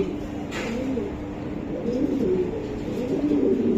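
Racing pigeon cooing close by, soft low throaty coos repeating over a constant background hum, with no speech.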